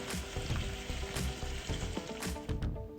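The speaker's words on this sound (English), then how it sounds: "And let it sizzle there for about 10 minutes" Green chicken curry sizzles and fries steadily in a pot, a dense continuous crackle with a few louder stirring bumps, close and alone with no talking.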